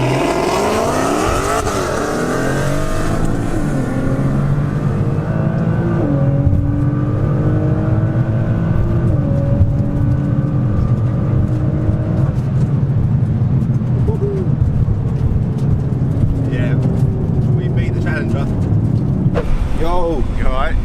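A 750bhp 2017 Nissan GTR, a Stage 4.25 build, launches flat out on a drag strip against a Challenger. Its engine note climbs hard and loud through several gear changes over about twenty seconds, close by and steady.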